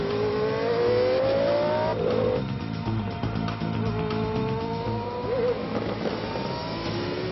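An LRS Formula race car accelerates hard on a track, its engine revving up through the gears in a loud, steady, close whine that rises, shifts and climbs again, with no talking.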